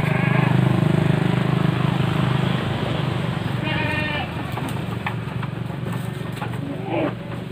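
Male goats penned in individual stalls at a goat farm raising bucks for Qurban bleat intermittently over a dense, continuous background of livestock noise, with short cries rising near and clear amid the clamor.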